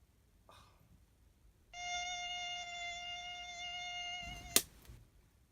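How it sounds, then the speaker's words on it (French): A mosquito buzzing around at night: a thin, steady high-pitched whine holds for a few seconds, close and fairly clear, ending with a sharp smack, after a brief faint rustle. "Putain de moustique là..."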